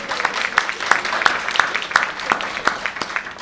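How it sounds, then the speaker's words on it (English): Hands clap at a health conference in an evenly spaced, brisk rhythm of sharp slaps over a murmur of voices, moderately close. "Applause."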